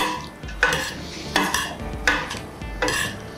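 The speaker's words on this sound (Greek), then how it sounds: "Τα ανακατεύουμε" A utensil tosses a salad with vegan mayonnaise in a bowl, making four evenly spaced bursts of clinking and wet scraping, close up with no talking.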